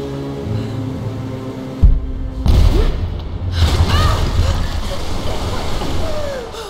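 A blast goes off in the game Rise of the Tomb Raider as a way is blown open, a loud low boom followed by rumbling debris and splashing water over ambient background.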